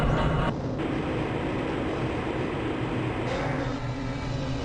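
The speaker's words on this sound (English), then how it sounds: "This train is inbound from the Area 8 topside dormitories to the Central Transit Hub in Area 9." Train in the Half-Life: Blue Shift game rumbling steadily along its track, a loud continuous low roar with rattling texture and a brief hiss shift near the start, no voices.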